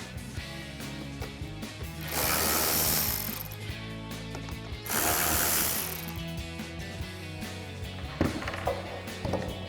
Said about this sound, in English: we'll go ahead and grab our 8mm socket and extension on our ratchet